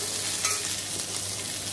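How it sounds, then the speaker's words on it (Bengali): Mustard seeds sizzle and crackle in hot oil for tempering a sweet-sour raw mango chutney, a steady close frying hiss with small pops and no talking. "এখানে সর্ষে ফোড়ন দিলাম টক করবো বলে।"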